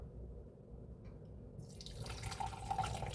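Tea poured through a metal strainer from a teapot, a soft liquid trickle and spatter that builds in the second half, faint and steady with no talk.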